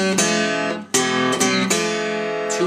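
Three acoustic guitar notes closing the introduction of a blues song, picked on open and fretted strings, each note ringing with rich overtones, close and clear with no voice.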